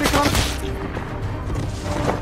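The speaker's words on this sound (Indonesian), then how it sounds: "Di waktu yang tepat, Ahmed menembak ketiga musuh tersebut" Gunfire in an action film: a burst of several sharp shots in quick succession at the start, followed by a low booming rumble under a dense, loud soundtrack.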